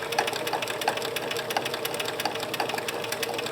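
A sewing machine satin stitches tightly around the small pupils of an appliqué eye, a steady fast mechanical hum with an even rhythmic needle pulse, close and continuous with no talk.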